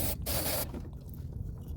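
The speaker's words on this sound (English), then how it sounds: "Let's use some electronics cleaner to clean the harnesses" Electronics cleaner sprayed onto the fuel injector wiring harnesses of a 2005 Toyota Camry 2.4L, two short close aerosol hisses with a brief pause between them and no talking.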